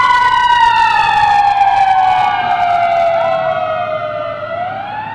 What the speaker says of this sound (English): We'll wait for the sirens.